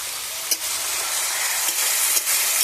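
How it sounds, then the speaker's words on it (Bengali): Spice paste of turmeric and chili sizzles and crackles steadily in hot oil as it is stir-fried for a fish curry, a loud continuous hiss with a few soft stirring scrapes, no voices. "এই মশলাটা কষিয়ে নিলাম"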